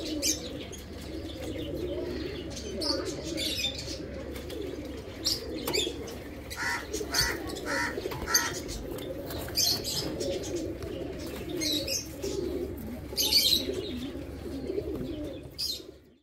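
Teddy pigeons coo steadily and softly up close, a continuous low murmuring with occasional chirps and wing flutters over it.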